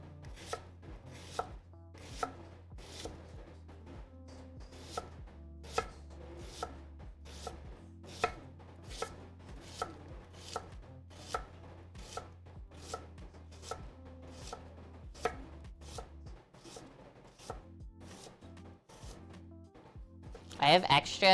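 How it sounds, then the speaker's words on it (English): A knife thinly shaving cabbage on a cutting board for shrimp salad rolls, with sharp rhythmic chops at an even pace and a faint low hum underneath. "thinly shaving the cabbage too"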